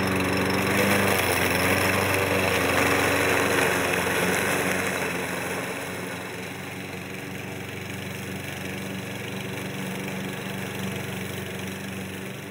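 A lawn mower engine runs steadily at a constant drone while mulching leaves on a lawn, loud at first and then slightly quieter, with no voices over it.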